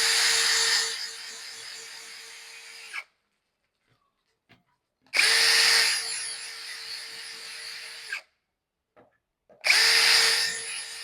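A power drill runs in three loud bursts of about three seconds each with short pauses between, boring holes while a door closer is being installed on a door.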